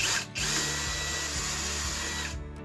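A power drill boring a hole with a Rutlands 13 mm brad point bit, a steady close motor whine that runs for about two seconds after a brief stutter at the start, with no talking.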